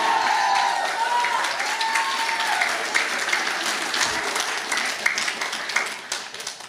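A church congregation applauds during a Tagalog sermon, a dense wash of clapping from a crowd that carries on for several seconds and slowly thins toward the end.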